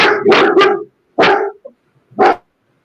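A dog barks three times up close, loud and sharp: a quick double bark, then two single barks separated by short silences.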